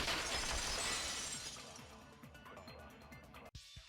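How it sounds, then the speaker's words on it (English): Glass shatters in a Danganronpa 2 sound effect, opening with a loud bright crash that tails off into scattered tinkling shards over a few seconds before a sudden cutoff. "the girls heard the sound of the window shatter"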